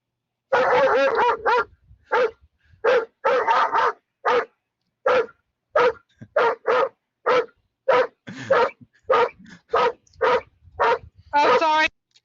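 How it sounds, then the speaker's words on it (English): A dog barks and yips over and over in irregular bursts, loud and close, with short gaps of silence between the barks. "I was waiting for you to either calm the dog down."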